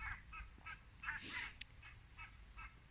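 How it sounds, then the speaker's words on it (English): A colony of Canada geese honks outdoors, a series of repeated nasal calls at a moderate distance, fairly faint, over a soft background hiss. "there you can hear these Canadian geese, this geese colony that comes here during this time of the season"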